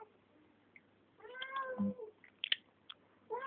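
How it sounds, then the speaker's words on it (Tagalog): A cat meows indoors, a short plaintive call rising over a quiet room, followed by faint clicks and a second call starting at the end. "May pusa."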